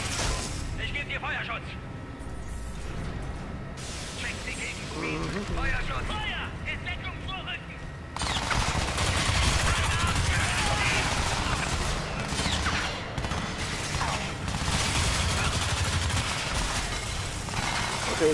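Gunfire in the shooter game Crysis 3, with bursts of shots over continuous dense action noise that grows louder and busier partway through, and someone talks over it.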